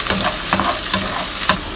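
Bay leaf and chilli sizzle in hot oil in a pan for pulao, a close, steady frying hiss broken by a few quick stirring scrapes.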